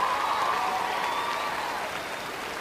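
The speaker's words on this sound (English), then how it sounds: "give a round of applause and thanks to the faculty and staff of the university" A graduating class at a fall university commencement applauds faculty and staff, a dense, steady wash of clapping from a large crowd that holds level throughout with no voices on top.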